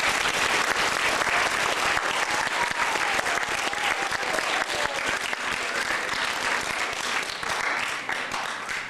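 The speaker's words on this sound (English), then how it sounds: "Let's give them both a round of applause." Loud, dense applause from a large audience at a school event fills the whole stretch, a steady unbroken roar of many hands clapping close by.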